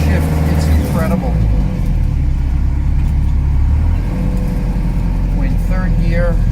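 A 1989 Land Rover Defender 110 Perentie 4x4 drives steadily in third gear, its engine a loud, continuous low rumble inside the cabin, with brief tonal whines and a person talking over it.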